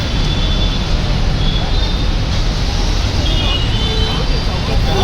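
Steady road traffic roar beside the Panvel ST bus depot, a dense continuous wash of engines and tyres with faint babble of voices in the background and no clear individual horn or pass-by standing out.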